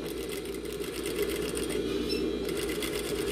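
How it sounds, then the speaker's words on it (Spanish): An industrial straight-stitch sewing machine runs steadily, sewing a seam on fabric with a fast, continuous mechanical whir and needle chatter, loud and close, with no talking. "Y cosemos hasta donde iniciamos nuestra costura, aquí."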